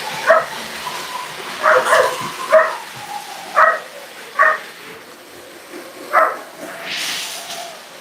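A puppy barks in short, sharp yaps, about seven of them spaced irregularly across the stretch, fairly close and clear against a quiet, hissy background with no talking.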